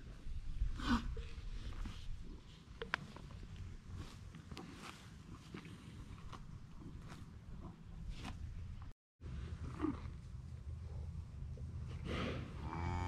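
Hereford cattle low repeatedly on a homestead farm, several loud moos rising over steady outdoor noise with shuffling footsteps, nearby and distant animals overlapping, no talk.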